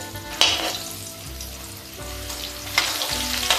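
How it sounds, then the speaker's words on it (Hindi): Cut namak para dough chips, made from maida, fry in hot oil with a steady close sizzle, broken by a few sharp bursts and clinks as pieces are stirred. "तब तक हम इसमें जो हमारे चिप्स कटे रखे ये डाल देते हैं"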